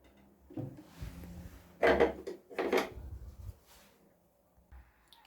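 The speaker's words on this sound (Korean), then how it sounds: "손잡이 볼트 구멍을 끼워서 이렇게 손잡이를 끼워 줄게요" Handles are fitted onto the drawer of an old wooden vanity dresser being refinished as antique-style furniture, giving several dull wooden knocks, scrapes and rubbing clunks at close range, with quieter gaps between.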